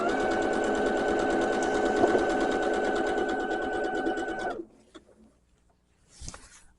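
A sewing machine quilting Japanese fabric runs in a fast, steady mechanical whir with a rhythmic stitching pulse for about four and a half seconds, then stops abruptly, followed by near quiet and a brief rustle.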